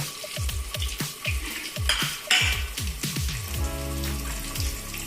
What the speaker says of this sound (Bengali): আলুটা আমাদের লাল লাল করে ভাজা হয়ে গেছে